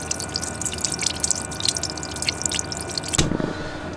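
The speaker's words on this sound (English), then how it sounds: "now I'm draining out all the water that is on the engine" Water drains out of a boat engine's fresh-water cooling circuit, a close, continuous trickle and patter of dripping liquid that cuts off abruptly near the end with a dull thump.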